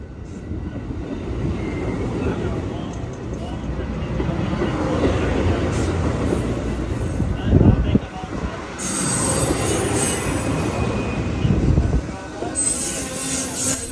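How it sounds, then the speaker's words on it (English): An Amtrak passenger train rolls steadily on rails with a constant rumble and brief squeals and clatter, heard from inside, with faint talk in the background. "I just boarded the Amtrak train"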